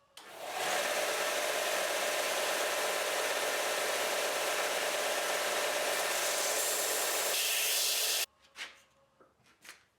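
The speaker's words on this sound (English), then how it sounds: "I'm gonna grind it a little bit more." Steel dagger blade pressed against a grinder, a loud, steady, close hissing roar lasting about eight seconds before it cuts off, followed by a few faint knocks.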